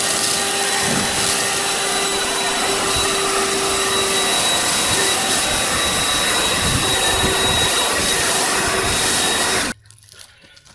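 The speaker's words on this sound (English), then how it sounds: "this is going to be a corner that I'm going to have to focus the blower on" A blower roars continuously and loudly at close range while Zoysia turf is laid in a Sydney yard, a steady rushing drone that cuts off abruptly near the end, leaving near quiet.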